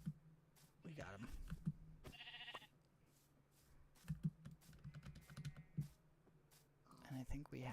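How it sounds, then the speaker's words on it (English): Sheep bleat repeatedly in a blocky survival video game, short calls scattered over steady keyboard typing and mouse clicks, with someone talking in between. "Come on, one more sheep. One more sheep."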